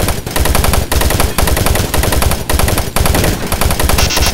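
Loud, continuous rapid automatic gunfire in the video game Doom 3, dense repeated shots in bursts separated by very brief pauses.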